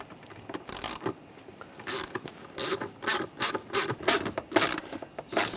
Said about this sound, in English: And we'll tighten the worm clamp down.